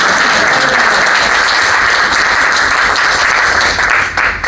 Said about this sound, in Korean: 우리 천호 우물을 허락하신 하나님께 한번 최고의 노래 박수하고 함께 올려드리겠습니다